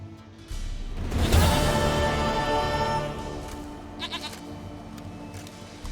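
A goat in the video game The Witcher 3 bleats in a loud, wavering call up close, over a low steady background hum, with a fainter bleat following later.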